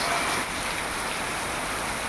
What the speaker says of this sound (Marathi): दुपारचं एक वाजले आहे देवगड मुनगे गावी मुसळधार पाऊस तुम्ही बघू शकता